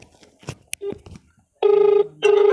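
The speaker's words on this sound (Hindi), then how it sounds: "देखो, अभी कॉल आ चुका है" A keypad mobile phone rings with an incoming call, two loud sustained electronic ring bursts separated by a brief gap, following a moment of someone speaking nearby.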